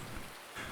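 Steady rain patters in Farming Simulator 19 on a wet autumn day, a brief, even, hissing downpour heard alone at low volume.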